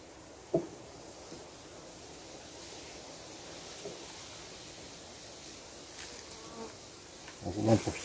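Honeybees buzz faintly and steadily as they are transferred from a small nucleus hive into a full hive, with a few soft knocks and rising handling noise near the end.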